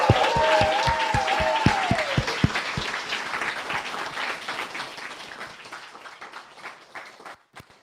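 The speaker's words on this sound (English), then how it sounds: "I would love an incredibly loud, not like mediocre loud, not like loud, but like incredibly loud applause for all of the mentors that have supported you" A hackathon crowd gives its mentors a lively round of applause, with dense clapping and a few whoops and cheers at the start. The clapping gradually thins out over several seconds.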